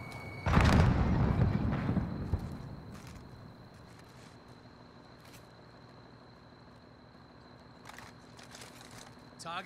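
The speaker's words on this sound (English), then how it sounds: "Enemy precision airstrike, take cover!" A precision airstrike in Call of Duty Warzone hits nearby with a loud explosive blast and rumbling debris that fade over a few seconds, leaving quiet ambience and a couple of faint later bumps.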